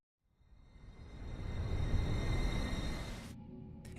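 Steady rain falls in an alley in the video game Chaos;Child, a broad hissing wash that swells from silence and holds loud and even before thinning abruptly near the end.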